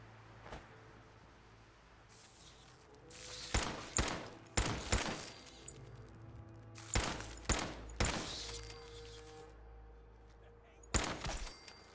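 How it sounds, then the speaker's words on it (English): Gunfire in the video game Fallout 4 comes in sharp, loud bursts of several shots spaced across the stretch, with quieter ambient game noise between volleys. "Alright, there's gunfire."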